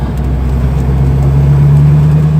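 A car cruises in fifth gear, its engine a loud, steady low drone with road rumble throughout and no talking over it.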